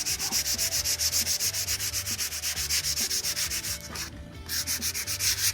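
Rhythmic hand sanding strokes on the bodywork of a VW Westfalia camper, taking guide coat off filler in steady back-and-forth rubs with one brief pause, close and alone.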